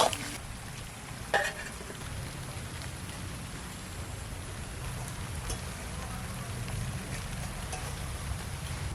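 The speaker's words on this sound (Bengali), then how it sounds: "নাড়তে হবে আর জাল দিতে হবে তলাতে যেন লেগে না যায়" Chicken curry bubbles and sizzles in a pan over a flame while a utensil stirs and scrapes it, a soft, steady close crackle with a few louder clinks near the start, faint voice in the background.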